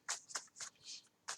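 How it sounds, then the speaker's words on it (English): A deck of cards is shuffled by hand in a quiet room, with four or five short, crisp riffling bursts in quick succession, close and soft with no talking. "I'm still finishing shuffling it"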